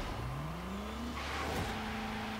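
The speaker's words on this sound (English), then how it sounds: "So one tyre lighting up there from a burnout" A classic Ford revs hard while doing a one-tyre burnout, engine pitch sweeping upward and then holding high with a rough, squealing edge, loud and close, with no talk.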